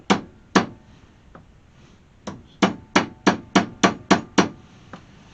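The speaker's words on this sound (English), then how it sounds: "Now I'm going to try to just hammer these edges down." Sharp hammer blows on metal, two strikes, a pause, then a fast steady run of about eight evenly spaced hits, close and loud, as stainless hood trim edges on a 1968 AMX are hammered down.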